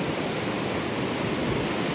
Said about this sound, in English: And these waves are actually quite big.